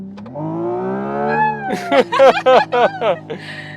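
The emulated engine sound of a Hyundai IONIQ 6 N electric car rises in pitch as if accelerating under full throttle, then a voice speaks over brief bursts of the humming drone, fairly close.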